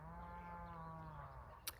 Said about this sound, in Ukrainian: Вам чутно коровок?